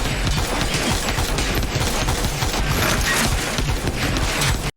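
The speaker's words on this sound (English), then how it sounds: "They shoot it up." Gunfire shooting up a building in a film: a loud, continuous barrage of rapid rattling shots and clattering impacts, dense and unbroken for several seconds before cutting off abruptly.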